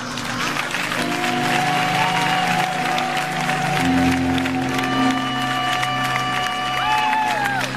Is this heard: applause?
yes